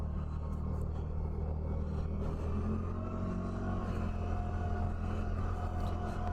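A CFMOTO ZForce 1000 side-by-side's 1000cc engine at half throttle on a trail, giving a steady, loud, close-up rumble that drones evenly and without pause, with no talking.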